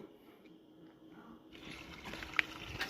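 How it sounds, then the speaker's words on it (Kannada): Water flows from a bamboo pipe outdoors in a forest, starting as a faint trickle and then a steady, louder rush with a few splashy bursts, heard alone. "ಈಗ ನೀರು ಬಂದ್ಲತ್ತವು"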